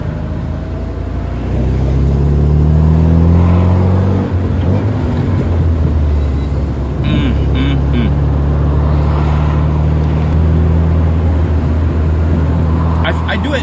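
Interior of a 1979 Alfa Romeo Alfetta 2.0 on the move with the windows down, its engine droning loud and steady with gear-change shifts in pitch and a rush of wind and road noise, while someone talks over it.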